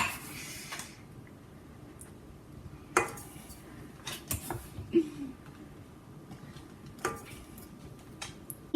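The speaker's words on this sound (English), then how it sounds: "Using any device or mixer you have, you stir it up" Softened butter with brown and white sugar stirred in a bowl, scattered clinks and taps of a utensil against the bowl over a quiet room, irregular and close, with a couple of sharper knocks.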